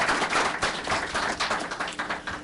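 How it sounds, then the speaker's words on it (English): A seated audience at a Middle East security event gives the panel a round of applause, dense overlapping clapping that swells at first and then gradually tapers off. "Please, a round of applause for the outstanding panel and remarks that we heard today."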